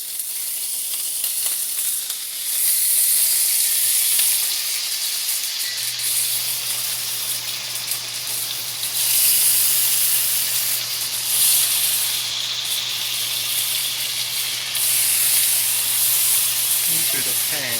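Tofu skin frying in oil in a pan, a continuous hissing sizzle that swells and eases in waves, with a low steady hum underneath and no speech.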